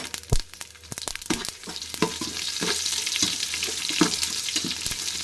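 Broken Byadgi chilies crackle and sizzle in a hot tempering with mustard seeds, garlic and curry leaves, sharp pops and stirring scrapes over a steady fry, with no talk.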